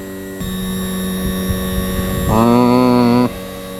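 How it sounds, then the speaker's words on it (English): The power trim motor on a Mercury 40 hp outboard whines steadily and close, then shifts to a louder, higher-pitched drone as it changes direction before cutting off abruptly. "you want to actuate the motor after you grease it"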